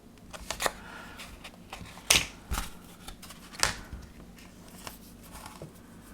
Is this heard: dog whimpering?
no